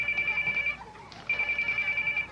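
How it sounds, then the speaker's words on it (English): Telephone ringing with a Bell Ident-a-Call distinctive ring pattern: two bursts of rapid trilling separated by a short pause, clear and fairly quiet, no talk. "tell who the call is for simply by the way it rings"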